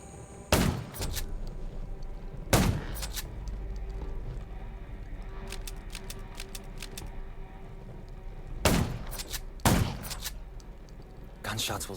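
Sharp gunshots from the Undawn video game, several single loud cracks spread across the span, with a steady background hum and ambience between them.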